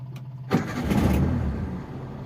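A Daihatsu Zebra car that has sat unused for a while and just had its battery charged: brief starter clicks, then the engine catches with a loud burst and settles into a close, rough idle.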